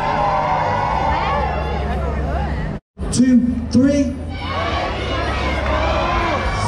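Crowd of children at a CBeebies Christmas lights event cheering loudly, a sustained roar that cuts out briefly and then surges back, with an adult voice speaking over it.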